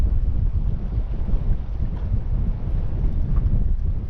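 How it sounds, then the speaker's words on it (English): Strong northwesterly wind buffeting a camera microphone aboard a small fishing boat out catching scad, a steady loud roaring rumble throughout with no pauses. "That wind is really picking up."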